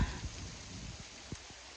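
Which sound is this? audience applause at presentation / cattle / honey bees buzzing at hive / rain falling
rain falling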